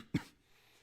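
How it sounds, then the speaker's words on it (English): A single short cough, close and fairly soft, followed by quiet. "I had a cough."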